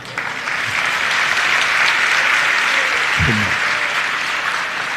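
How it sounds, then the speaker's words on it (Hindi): An audience at a Hindi religious sermon applauds steadily, a dense wash of clapping that holds at full strength for the whole stretch, with a brief low murmur in the middle. "बस ताली बज गई ना"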